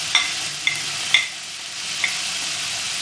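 Spiced keema frying in a pan, with ground roasted cumin, salt, turmeric and ground coriander being stirred in: steady hiss and crackle, broken by four sharp utensil clinks against the pan, no voices.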